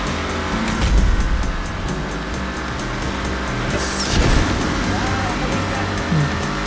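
Race cars with seven-speed gearboxes roar through a GTA Online drag race, engines droning steadily with a couple of louder surges as cars pass close, under a background wash of game audio.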